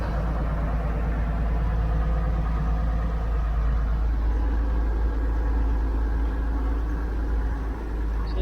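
A truck engine idles with a steady, loud low rumble and drone while air pressure builds, holding constant for the whole stretch without speech.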